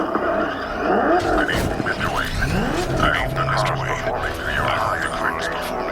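The Batmobile in the video game Batman: Arkham Knight drives with engine roar and swooping, pitch-shifting whooshes and skids, moderately loud, while a person talks over the game sound.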